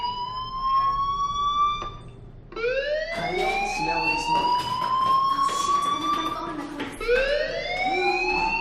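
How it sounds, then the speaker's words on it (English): Fire alarm in the video game Life is Strange, a loud rising and falling electronic siren wail that repeats in long sweeps, with a short break before it starts again. "do you hear that fire alarm?"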